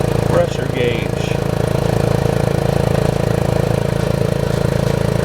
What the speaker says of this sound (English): I can't believe that this electric motor actually works.